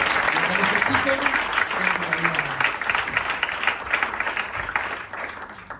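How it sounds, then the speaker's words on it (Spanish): Audience applause breaks out at the close of a sports nutrition talk on REDs and metrics-based nutrition, a steady, fairly loud wash of clapping lasting several seconds with speech running over it. "Nos recibimos nuevamente con un aplauso, José."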